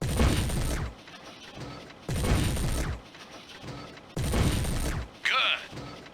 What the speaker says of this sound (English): Fire a few more times at the mech